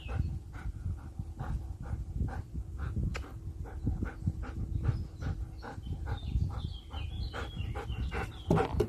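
A dog pants rapidly and steadily right up close, quick rhythmic breaths repeating throughout with a low background hum.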